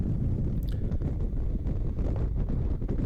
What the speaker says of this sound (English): Just to change the subject, super windy here.